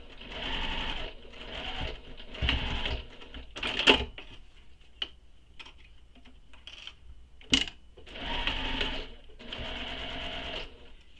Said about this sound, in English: I'll sew going up from the bottom to the top